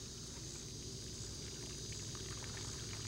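Water pours steadily onto newly planted broccoli in garden soil, a soft continuous splashing and trickling close by, fairly quiet and unbroken.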